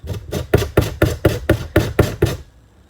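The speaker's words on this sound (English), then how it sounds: "I'm just going to scrub the peel onto the grater and collect the shavings" Lemon peel scrubbed against a kitchen grater for a lemon cake: about nine firm, rhythmic scraping strokes up close that stop abruptly, leaving near silence.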